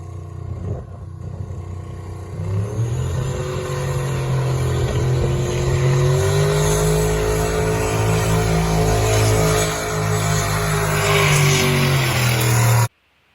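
A hot rod engine on a power tour revs hard and holds a loud, sustained roar with a steady pitch as the tires melt, then cuts off abruptly near the end.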